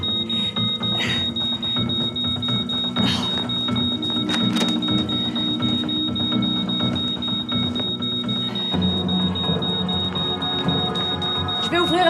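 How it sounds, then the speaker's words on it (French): A high-pitched smoke alarm beeps steadily throughout, set off by cooking left on the stove, cutting through busy background noise and people talking. "C'est le détecteur de fumée."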